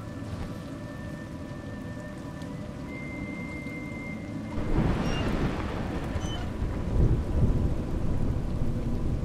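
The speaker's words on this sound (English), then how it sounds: "It's raining." Rain falls steadily in the video game A Juggler's Tale, then a deep roll of thunder breaks in about halfway and rumbles on, swelling again near the end, with no talk over it.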